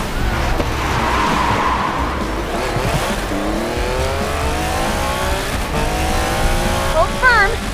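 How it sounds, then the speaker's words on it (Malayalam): Aston Martin Valhalla prototype with 1064 hp braking hard in the Racing Master video game, engine roaring throughout as rising tire squeals build near the end over in-game sound. "ഇത് അഗ്രസീവ് ആയിട്ടുള്ളൊരു ബ്രേക്കിംഗ്."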